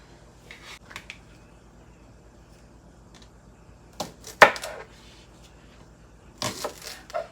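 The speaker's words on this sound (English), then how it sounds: "So I've cleaned the green onion. I'm gonna cut these up." Cleaned green onions cut with a knife on a board, scattered soft taps early, then a sharp chop cluster near the middle and a longer run of quick chopping at the end, close with quiet gaps between.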